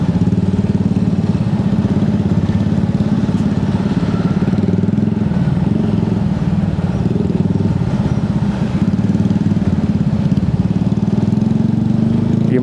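A motorcycle rides through heavy, congested traffic on a road in southern Bali, its loud engine droning and puttering steadily up close throughout, with surrounding traffic noise mixed in.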